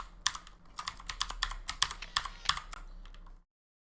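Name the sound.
computer keyboard keys pressed during rhythm game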